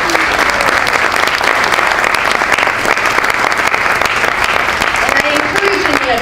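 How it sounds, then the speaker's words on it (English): Audience applause at an AFP Ohio chapter meeting, dense steady clapping from a room full of people sustained throughout, with a few voices mixed in near the end. "So let's give a round of applause to the"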